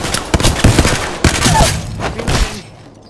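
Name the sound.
gunfire in the video game Apex Legends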